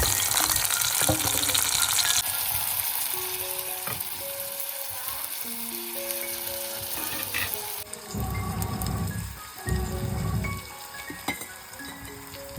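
Oil heating for a Marathi-style phodni with onion, garlic and spices, a continuous close frying sizzle that shifts in intensity, with occasional stirring and some background hum, no speech.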